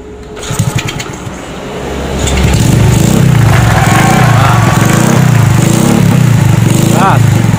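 A small two-stroke Pitung motorcycle engine fitted with a racing ignition circuit starts up and revs in repeated rising and falling bursts, loud and close, with people talking faintly underneath.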